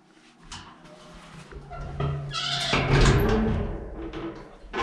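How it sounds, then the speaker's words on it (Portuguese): A door swings and bumps shut inside an empty, supposedly haunted house, a dull wooden thud and rattle building mid-clip over low room noise, fairly close. "Fechar a porta aqui, deixar a porta aberta."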